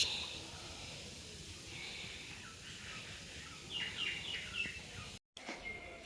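A freshly bathed pet bird indoors gives a few faint, short chirps in a loose cluster, distant and soft over a steady background hiss, with a brief dropout near the end.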